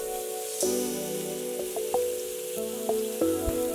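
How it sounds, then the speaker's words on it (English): A steady, crackling sizzle of oyster mushrooms frying in a hot pan over medium-high heat, with a soft hum and occasional light clinks throughout. "You can hear it's starting to sizzle already"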